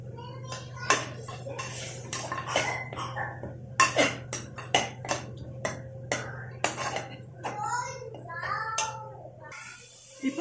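Prawn biryani masala gravy is stirred in a pan, with repeated sharp metal clinks and scrapes of a spoon against the pan over a steady low hum, as a voice chatters in the background.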